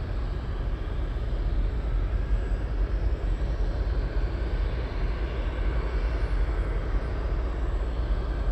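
A jet airliner at Anchorage airport begins to roll, giving a broad, steady engine roar with a deep low rumble that holds evenly throughout, loud and continuous with no voices.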